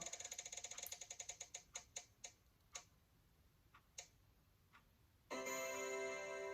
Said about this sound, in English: Tapping the spinning wheel.